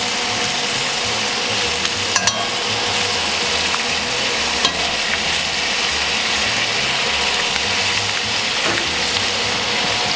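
A steak sears in butter on a grill with rosemary nearby, producing a steady close sizzle with a few clicks and metallic taps from handling, and no talking.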